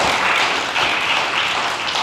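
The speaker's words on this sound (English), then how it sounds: "Can we give Rashida one more round of applause?" Sustained round of applause from a crowd at an outdoor groundbreaking ceremony, with dense clapping holding steady throughout.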